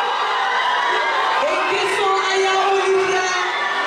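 A pageant audience applauds and cheers as the winner is crowned, a dense, loud wash of clapping, whoops and mixed voices that fills the whole stretch without pause.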